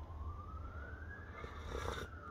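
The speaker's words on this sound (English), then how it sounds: "Those are sirens for, stuff." A police car siren passes outside, a faint, distant rising wail under steady low background noise.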